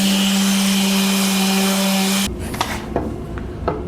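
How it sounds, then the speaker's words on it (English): Power sander running steadily on a wooden mid-century modern dresser for final sanding, a loud continuous whine that cuts off abruptly, followed by quieter scraping and handling knocks on wood. "We're going to do some final sanding and I'll be ready to attach this"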